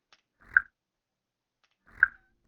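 Rubber dog toy cover with a wet texture, pitched up, giving two brief squelching chirps about a second and a half apart, close, soft and isolated in otherwise quiet space.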